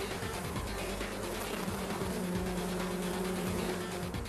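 A dense swarm of bees hums in a thick, continuous buzz, steady and fairly loud, with shifting drones layered over one another.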